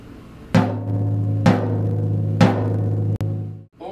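Three tom drum hits about a second apart ring out with sustained resonant tones, followed by a sharp click and then silence. The toms are tuned high.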